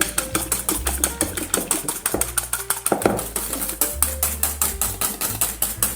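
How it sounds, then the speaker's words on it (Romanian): A hand whisk beats a small amount of egg whites with salt in a bowl, making fast, regular clicking taps in a steady rhythm, close and alone. "Acum fiind așa cantitate mică, le bat cu telul."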